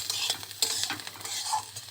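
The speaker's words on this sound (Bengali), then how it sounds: "আমি এটা সাদা তেল দিয়েই ভাজছি" Two green chillies fry in white cooking oil in a pan, giving a close, bright sizzle. A spoon stirs and clinks against the pan in short, irregular scrapes during the brief moment, and nobody speaks.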